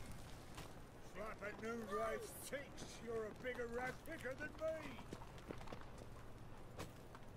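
Hooves gallop in a horse race in The Witcher 3, a steady clip-clop rhythm running beneath loud, continuous talk from a player, with game ambience filling the background.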